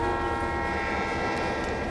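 Steady rumble of a train running in the Trainz: A New Era simulator, Coal Country route, with continuous layered mechanical tones and a constant level, no talk over it.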